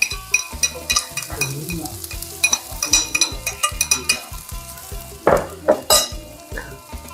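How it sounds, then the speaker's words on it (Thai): Freshly pounded chili-garlic curry paste stir-fried in hot oil in a pan, loud rhythmic spatula scrapes and taps over a constant sizzle, close up, with a brief flare of hissing near the end. "นี่ใส่เครื่องแกงเครื่อง ที่เขาตำไว้ครับ ลงไปผัดให้หอมครับ"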